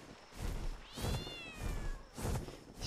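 A cat in the video game ARK gives two or three distinct meows with rising-and-falling pitch, spaced about a second apart, fairly close over a soft background hum.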